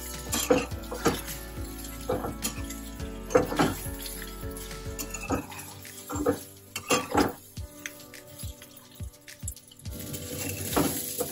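Leftover rice stir-fried in a pan produces repeated metallic clanks and scrapes of a spatula against the pan over a low, faint sizzle, in irregular bursts.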